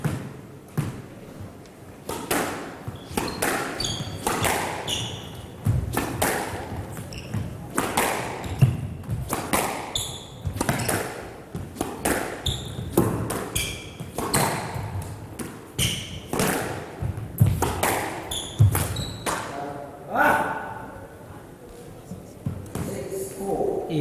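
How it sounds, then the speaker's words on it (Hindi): Squash ball struck by rackets during a professional championship semi-final rally, sharp hollow thwacks and wall rebounds in an irregular quick rhythm, with a commentator talking throughout in an echoing court. "रैकेट के फ्रेम को लगाई ये बॉल"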